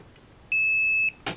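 A multimeter continuity beep while testing a drop-damaged motherboard: one clear, steady electronic tone lasting about half a second, followed by a short click.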